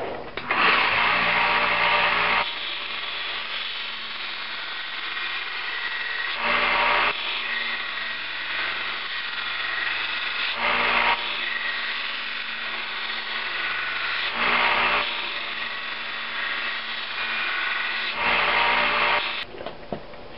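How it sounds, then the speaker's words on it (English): A 1x30 belt sander grinds a steel knife blade with a continuous whirring rasp that rises in pitch and intensity each time the blade is pressed to the belt, repeating in several passes. "I hit that on the belt sander. I like using the 1x30."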